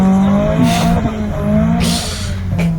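Honda Civic with an H22 engine revving hard off the line on a slipping clutch, engine note soaring loud and close with no real pull, lasting the whole moment.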